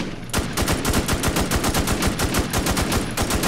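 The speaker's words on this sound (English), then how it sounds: "Oh, nail gun." A nail gun fires in rapid automatic bursts in the survival shooter game Infestation Survivor Stories, a loud, evenly spaced stream of sharp shots with no pauses.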